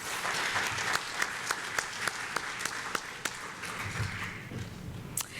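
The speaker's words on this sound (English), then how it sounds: "Please give them a great round of applause." An audience at a mayoral candidate dialogue applauds the sign language interpreters, dense steady clapping from a crowd with sharper individual claps standing out, sustained throughout.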